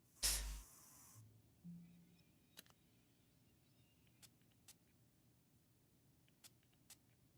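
A short, close hiss of deodorant sprayed on armpits in the game Fragments of Him, one brief spray at the start followed by quiet, with faint clicks and small sounds scattered after.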